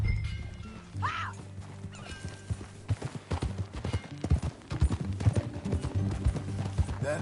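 Horse hooves clip-clopping in Red Dead Redemption 2 on PS4, an irregular string of close hoofbeats that grows busier, with a brief whinny near the start and steady background game ambience.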